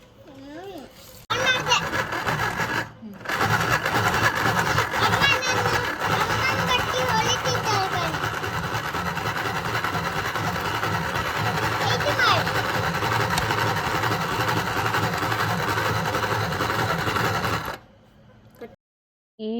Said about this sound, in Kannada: ನನ್ನ ಹತ್ತಿರ ಈ ಥರ ಒಂದು ಸ್ಟಿಚಿಂಗ್ ಮಿಷಿನ್ ಇದೆ ನನ್ನ ನಾನು ಸ್ಟಿಚ್ ಮಾಡ್ತಾ ಇದ್ದೇನೆ